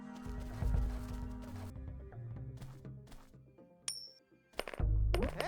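A coin drops and clinks on a hard surface in a Metal Gear parody game, a short bright ring amid soft footsteps and game ambience, fairly quiet.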